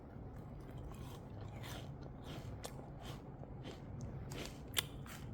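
Quiet crunching bites of a mini crispy chocolate snack, several irregular crackly snaps close up against a soft background hiss.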